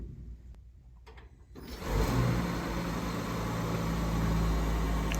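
A Genesis G90 long-wheelbase limousine starts by remote key: after quiet background sounds, the engine turns over at about two seconds and settles into a steady, broadband idle hum that holds to the end.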